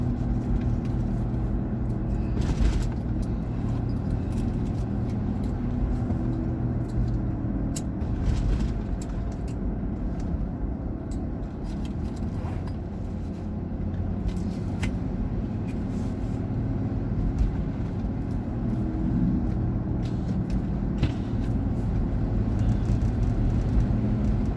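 A truck rumbles past on a residential street, a steady low engine drone and tyre roar that swells and fades over about twenty-five seconds, with faint clicks and background noise throughout.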